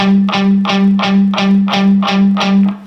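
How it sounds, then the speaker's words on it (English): Eight tight, chugging palm-muted guitar downstrokes on one low note, evenly spaced, with a slightly distorted tone and no talking. "I put my palm down on the strings to palm mute it,"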